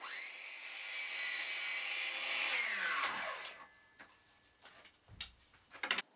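A miter saw cuts a thin wooden runner to length, a loud whining buzz that holds for about three seconds and then spins down, followed by light knocks and taps of handling wood.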